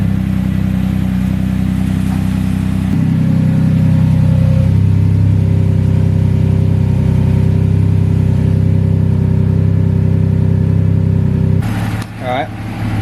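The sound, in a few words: Audi S4 B8 driving with new IE downpipes, engine revving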